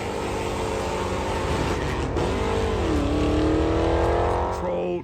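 Ford Mustang GT V8 engine revving up, the deep exhaust note climbing in pitch and swelling louder before easing off at the end, heard close and alone.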